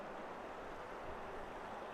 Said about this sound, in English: This is a sweet little waterfall, maybe, what do you reckon, metre and a half?